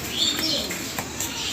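Pigeons in a pigeon loft on a farm, giving soft, repeated coos over a constant background hum, heard fairly close.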